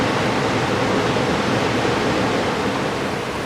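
A swift-running creek rushes steadily, too fast and deep to wade across; a dense, continuous wash of water noise fills the scene without pause and no one speaks.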